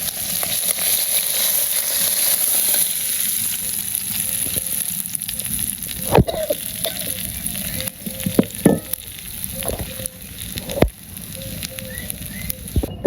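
Fish frying in hot oil in a village kitchen wok gives a loud, steady sizzle throughout, with a few sharper crackles and pops near the end.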